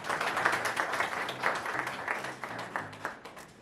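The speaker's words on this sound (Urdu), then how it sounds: "آپ کی گزارش ہے کہ آپ تالیاں کر دیں" Applause from guests and staff gathered at an executive office, a dense patter of many hands clapping at moderate volume throughout, with no voices on top.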